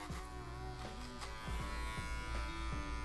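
Electric hair clippers buzzing steadily during a clipper-over-comb cut on a skin fade, close and continuous, with repeated short sweeping strokes and faint comb clicks.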